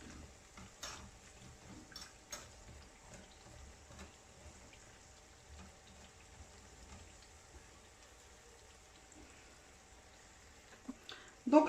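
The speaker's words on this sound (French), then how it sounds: "faut vraiment être les deux pour éviter qu'ils carbonisent dans l'huile quand vous les faites frire" Chebakkia sesame pastries frying in oil, a faint continuous sizzle with soft stirring and scraping clicks, rising to a louder clatter at the very end.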